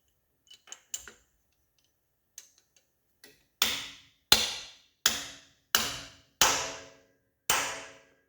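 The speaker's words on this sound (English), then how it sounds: "Take a respectable hammer. Make sure that you're in there good." A few light taps, then six loud, sharp metallic hammer blows at a steady pace driving a part into an International Harvester DT 466 diesel engine, each ringing briefly before the next.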